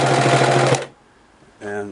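A Singer Model 353 Genie sewing machine stitches straight through thick layered nylon strapping, a loud steady mechanical run that stops abruptly, then a brief pause before a voice speaks.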